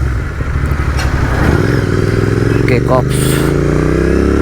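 A GT 650 motorcycle engine rumbles loud and close, its pitch rising and falling in a revving sweep, with a person speaking briefly over it.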